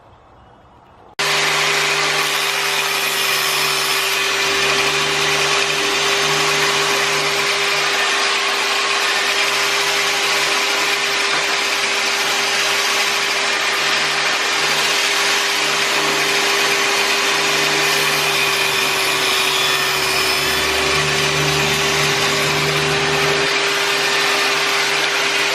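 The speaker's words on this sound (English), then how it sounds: "I'm going to sand all the varnish off of this as well" A power sander with 60-grit paper removing varnish from wood, grinding continuously and loudly at close range, a steady buzzing whine with slight shifts in pressure, starting abruptly after a brief quiet moment.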